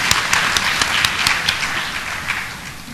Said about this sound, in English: Let's give these seasoned and persistent champions of PLAR an applause.